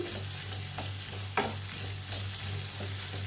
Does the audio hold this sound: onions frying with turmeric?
yes